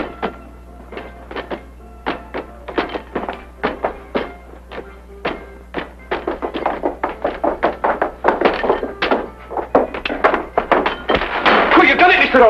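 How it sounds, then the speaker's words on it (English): Spring-loaded lock catch worked with a wire until it releases and unlocks, heard as a close run of sharp clicks and taps that quicken and crowd together toward the end, over a low steady hum. "By pressing it in at an angle of 45 degrees, I release the catch against that thimble, that arm of the thing, and it unlocks automatically."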